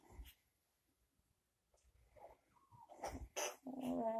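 An African grey parrot mimics a dog with short soft barks, snorts and whimpering sounds, quiet at first and then louder and busier toward the end.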